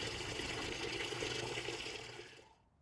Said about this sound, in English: So I'm just going to cover it with water.